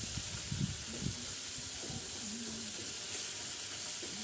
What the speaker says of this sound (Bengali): মাছটা রান্না করতে থাকি